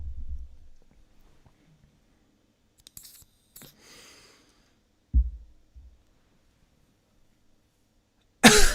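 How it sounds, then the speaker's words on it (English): A few separate coughs and throat-clearing bursts from a nearby person, heard as short low rough bursts between long silent gaps, with some faint clicks and a loud burst at the very end. "I don't know why the coughing won't stop."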